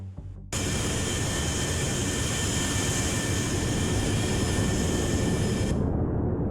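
Jet engines of a B-52 bomber in the naval combat game Sea Power, a loud, steady roar with a high whine that starts abruptly after a brief quiet moment and holds evenly before cutting off near the end.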